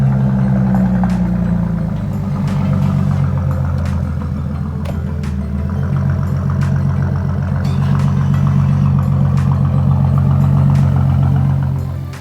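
A car engine runs steadily close by while cars are being moved around to be parked and washed, a low, continuous rumble with slight swells and no voices.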